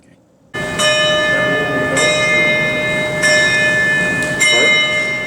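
A large bell at the Kentucky Capitol Building in Frankfort rings repeatedly with slow, evenly spaced, resonant strikes whose long ringing tones overlap, loud and sustained after a sudden start, over a busy ambient background.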